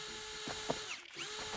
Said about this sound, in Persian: پیشگوشتی هم نیست اسمش دریله